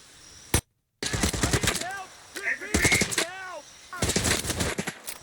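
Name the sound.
gunfire in a jungle survival shooter video game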